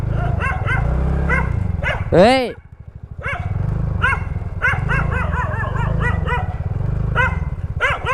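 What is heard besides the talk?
dogs barking and growling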